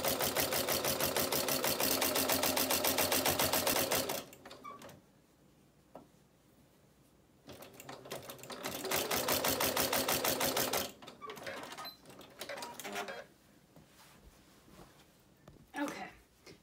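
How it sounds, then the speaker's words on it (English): A sewing machine runs in close, rapid bursts while stitching fabric strips onto a ferret cuddle cup, with three separate runs of steady rattling stitching and quiet handling noises in the pauses between them. "So now you've sewn the strips around your bed."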